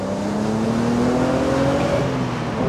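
A BMW coupe convertible accelerates hard, its engine note climbing steadily in pitch under constant road and wind roar, heard from inside the car with no talking.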